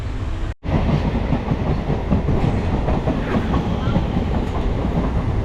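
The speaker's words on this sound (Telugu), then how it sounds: "ట్రైన్ క్రాస్ అవుతుంది" Loud, steady rail clatter and rumble from a train on the Chennai–Pondicherry line, heard close up from on board. A brief dropout interrupts it near the start, and then the rhythmic clickety-clack runs on continuously.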